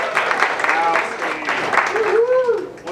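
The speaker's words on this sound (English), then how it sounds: "give yourselves a round of applause for being here" A crowd applauding with scattered cheers and whoops, steady clapping filling the room throughout.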